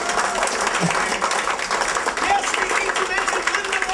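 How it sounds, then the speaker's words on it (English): Applause and cheering from an audience at a community theatre awards night honoring Linda, steady clapping throughout with a voice speaking over it. "So if you guys give a round of applause to her"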